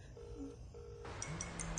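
A phone line rings through an earpiece, a steady tone sounding in short bursts, faint and close, with a second tone joining near the end.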